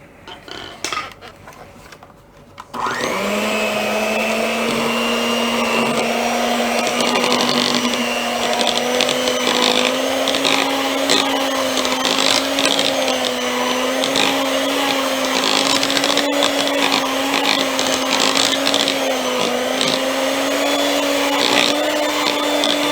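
Electric mixer beating pound cake batter with lemon, a loud steady motor whine that starts abruptly after a few seconds of quieter clatter, then runs continuously with faint rattling from the bowl.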